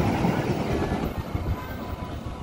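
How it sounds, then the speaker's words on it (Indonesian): A train rolls past close by, a continuous heavy rumble with rattling wheel clacks on the rails, loud and steady throughout with no voices. "Kereta api."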